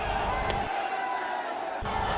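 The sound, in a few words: crowd of unruly devotees jostling to see the Bageshwar Dham head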